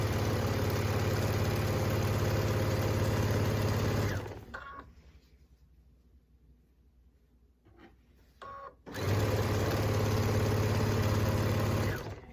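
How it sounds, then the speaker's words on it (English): A sewing machine runs steadily, stitching a quarter-inch seam to attach fabric binding. Two loud, even bursts of motor whir are split by a quiet pause of a few seconds, with a faint click or two in between. "I'm going to sew a 1/4 inch until I get close to this end right here."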